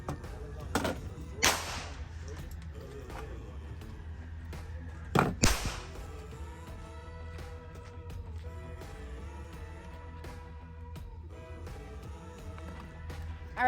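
Magazine seated and slide racked on a budget JTS M12AK airsoft shotgun, heard as a few sharp close mechanical clacks in two clusters, with quieter handling rattles in between.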